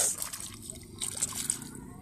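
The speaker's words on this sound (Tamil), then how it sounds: "அதுக்கப்புறம் கை கழுவணும்" Hands being rinsed under running water at a campsite, splashing trickles and sloshes in short uneven bursts, with soft voices in the background.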